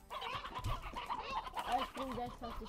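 Chickens on a chicken farm in the Slime Rancher video game cluck and chatter continuously and close by in a busy flock, while a person speaks briefly over them.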